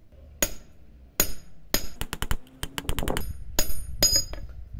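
A hammer strikes a length of steel rebar at an artisan forge during knife making, with loud, sharp metallic blows that come first spaced apart and then in quick bursts of close, ringing hits.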